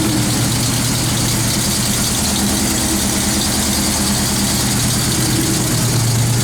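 A 1977 Jeep J20 full-size pickup truck engine idling steadily, a loud, even low rumble with a constant throb that holds without change and no talking.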